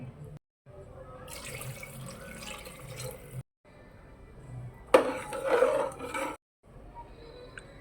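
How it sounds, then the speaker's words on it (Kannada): Water poured into a pot of rice in several bursts separated by short silences, the last pour louder and splashier. "ವಾಟರ್ ಆ್ಯಡ್ ಮಾಡ್ಕೊತಾ ಇದ್ದೀನಿ"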